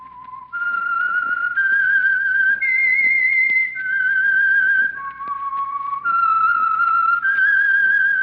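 A clear, bright whistled melody of sustained notes that step up and down, played alone and fairly close.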